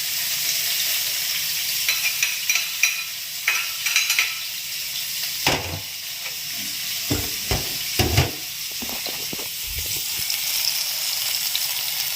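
Oil sizzles steadily in a pan during a stir-fry, a loud, close hiss that runs throughout, with scattered clanks and scrapes of a spatula against the pan, clustered toward the middle and end, and no talking.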